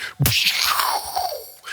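A voice imitates a gunshot from an old Western, a sharp burst followed by a long descending whistling ricochet that trails off, loud and close.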